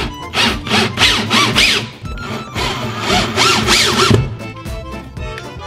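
A power drill drives screws to fit a magnetic door stop in a garage, whirring in several loud, close bursts that rise and fall, with short pauses between them.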